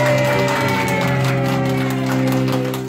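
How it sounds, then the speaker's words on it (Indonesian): Children at a Catholic children's gathering break into loud, dense applause mixed with cheering and whoops. A sustained musical tone runs underneath throughout. "Tepuk tangan sekali lagi yang paling meriah buat Tuhan Yesus"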